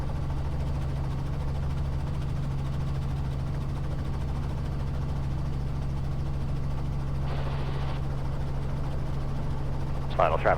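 A Robinson R44 helicopter drones steadily from inside the cabin, its low rotor and engine hum constant throughout, while radio traffic and voices talk over it.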